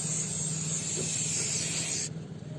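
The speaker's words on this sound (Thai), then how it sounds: "ผมจะฉีดเข้าไปนะครับ" An aerosol remover sprays in one steady, close hiss onto old, stubborn window tint film adhesive, running about two seconds before cutting off abruptly, leaving only a quiet room.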